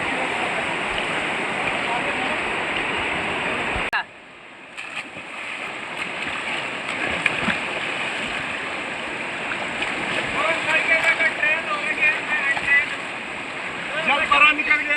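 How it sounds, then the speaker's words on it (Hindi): People swimming and playing in a river, with continuous rushing water and splashing throughout, a brief dip in the noise early on, and scattered louder splashes near the end. "हम पानी में जल क्रीड़ा कर रहे हैं"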